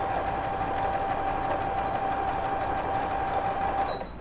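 Sewing machine running steadily while stitching a backstitch bar on knit fabric scraps, a continuous close mechanical whir with a faint steady tone, slowing and stopping at the very end; no talk.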